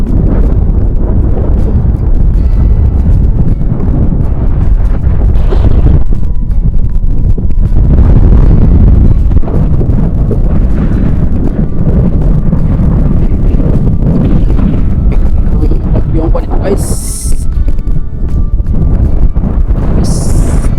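Strong typhoon wind at sea off Baler, Aurora, roaring and buffeting continuously at high level, gusting throughout with rumbling low-end microphone noise and no clear voices.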